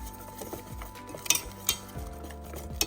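Maida, milk, sugar and salt are stirred together in a bowl for a sweet potato snack batter, with a spoon scraping and clinking against the bowl in uneven strokes, a few sharper taps standing out, close and moderately quiet.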